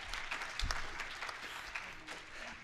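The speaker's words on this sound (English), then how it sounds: "Round of applause," Audience applause fills a room at the ITUP 2025 pre-conference, a dense, steady wash of many hands clapping for the whole stretch, fairly distant and even in level.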